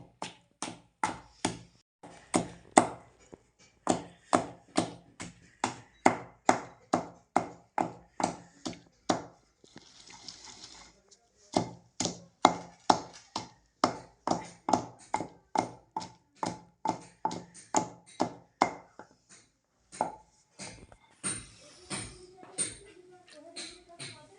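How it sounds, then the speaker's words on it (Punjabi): Coriander and onion pounded in a kundi sota mortar and pestle: steady rhythmic thuds, close and fairly loud, repeating about twice a second with a brief pause midway and a softer scraping stretch near the end. "ਲੋ ਜੀ ਧਨੀਆ ਤੇ ਪਿਆਜ਼ ਆਪਣਾ ਸਾਰਾ ਕੁਝ ਕੁੱਟ ਹੋ ਗਿਆ"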